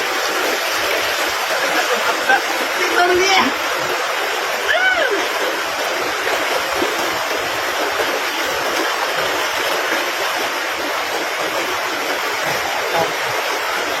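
A strong river current roars steadily throughout, a loud, continuous flow with splashing texture, while a person speaks briefly over it.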